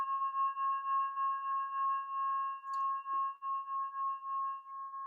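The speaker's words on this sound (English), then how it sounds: "So this is like a trigon." A trigon-like resonant instrument rings with steady sustained tones, a clear fundamental and overtones holding evenly for about five seconds before fading, with a faint tap partway through.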